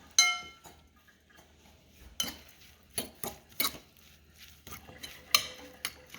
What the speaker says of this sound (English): I'll stir that up a little bit more, but that is our stuffing